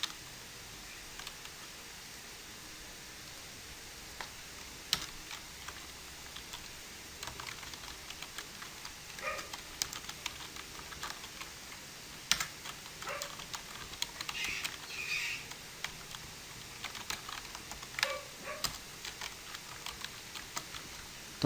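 Keys on a computer keyboard are tapped in irregular bursts and single presses while a command is typed, the clicks close and fairly quiet against a faint background hiss.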